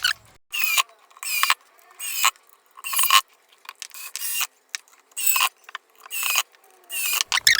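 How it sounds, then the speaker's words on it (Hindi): Screws being tightened into a homemade Bluetooth speaker box, a loud, close series of ratcheting mechanical bursts, roughly ten short turns separated by brief silences. "तो वापस से स्क्रू टाइट कर देते हैं।"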